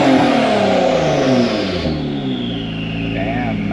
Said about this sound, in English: he gave me the green light to rev it, so I'm gonna rev it.